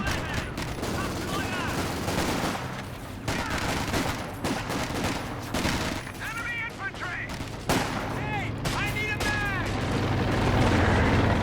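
Dense gunfire and artillery from a Company of Heroes 2 battle: rapid machine-gun bursts and heavy booms roll continuously at high volume, with voice callouts mixed in over the barrage.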